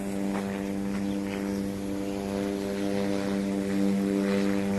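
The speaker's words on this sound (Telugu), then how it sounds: "అది ఫ్లైట్" A fixed-wing airplane passing over Abu Dhabi city produces a steady, droning engine hum with a sustained tonal buzz, moderately distant and fairly even in level throughout, with no voices.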